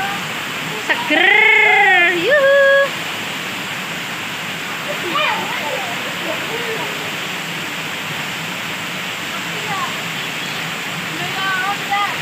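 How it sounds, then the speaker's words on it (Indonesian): Heavy rain pours in a steady, dense wash of hiss that fills the whole stretch, with people talking and calling out briefly over it. "Hujannya deras, sangatlah deras."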